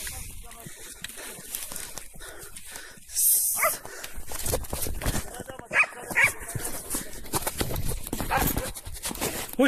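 A dog barks outdoors during a wild boar hunt, with sharp, repeated barks mixed into rough, noisy ambience, shuffling and people talking throughout.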